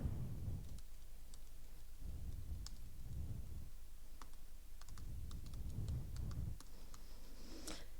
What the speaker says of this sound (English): These sequences that I'm typing over here